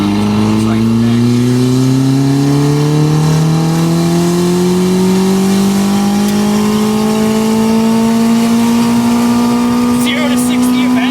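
A slow vehicle's engine revs up steadily through a long gear, its pitch climbing continuously and loud throughout, with no clear rev-limiter hit.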